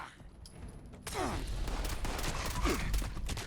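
Pipe gun in the game Fallout 76 fires rapidly, a continuous stream of close, fast shots after a quieter opening second, with deep low-end thumps and a couple of whooshing effects.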